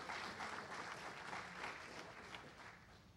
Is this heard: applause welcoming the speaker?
yes